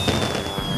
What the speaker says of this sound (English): Percy finished his last delivery of coal and arrived at the funfair as the fireworks began.